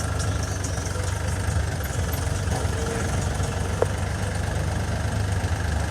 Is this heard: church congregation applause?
no